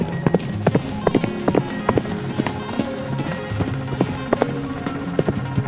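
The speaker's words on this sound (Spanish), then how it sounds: "Volteó mientras el caballo aún seguía galopando" A horse gallops in a Spanish-language horror story, with a steady run of sharp clip-clop hoofbeats in quick repeating groups over a low rumbling bed, fairly close and continuous throughout.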